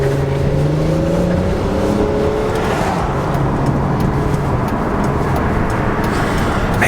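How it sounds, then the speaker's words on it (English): A Chrysler Sebring's engine rumbles steadily as it accelerates, its tires gripping and grinding, with a continuous road and tire roar throughout and no voices. "those tires sounded like they were just gripping and grinding, ready to hit the streets"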